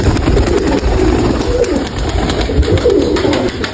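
Pigeons in Mykolaiv cooing steadily and close up, soft overlapping calls continuing throughout with no talk.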